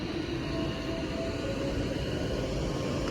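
An Avanti West Coast Pendolino train at Stafford station gives off a steady, loud rumbling hum of rolling carriages, continuous and unchanging, with no voices.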